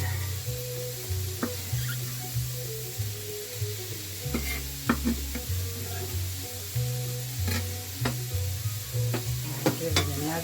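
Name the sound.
stirring celery and vegetables frying in a pot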